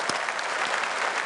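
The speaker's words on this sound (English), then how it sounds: "Should give him a big round of applause for Tice, man." An audience at a political rally in Birmingham gives a short burst of steady applause. The clapping is loud and even and fills the whole moment.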